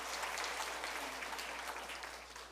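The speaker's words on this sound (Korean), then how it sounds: "다시 한번 우리 새가족 여러분들에게 환영의 박수를 하겠습니다." A church congregation claps to welcome new members during an afternoon worship service, a dense, even round of applause sustained throughout and fading slightly toward the close.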